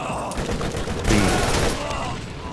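Ajax's Spear, an Atlas combat rifle in the game Borderlands, fires as a dense, continuous burst of rapid shots that swells louder midway, close and sustained for a few seconds.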